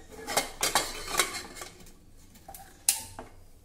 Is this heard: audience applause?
no